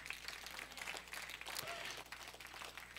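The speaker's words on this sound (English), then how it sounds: "Let's give the Lord applause for that." Congregation applauding during a church sermon, a moderate patter of clapping hands that swells and fades across the short moment, somewhat distant.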